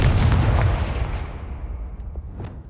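A Confringo fire spell blasts in Hogwarts Legacy with a loud, booming explosion that hits at once and then rumbles and fades over a couple of seconds, heard alone.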